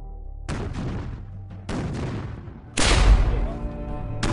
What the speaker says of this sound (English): and increases the cannon barrage.